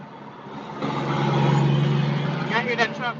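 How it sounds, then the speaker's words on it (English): A truck engine roars past at night, swelling loudly to a deep rumbling peak before trailing off, with a voice talking over it near the end. "Y'all hear that truck?"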